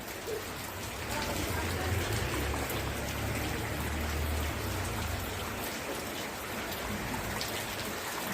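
Rain pours steadily on an overcast, cloudy day over open ground, a dense constant patter of drops heard close and loud, with a faint low rumble underneath and no speech.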